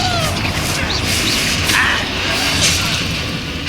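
Hogwarts Legacy combat with spell blasts such as Bombarda and Confringo going off, a dense wash of booms, whooshes and crashes running continuously through the scene, with a voice calling out over the effects.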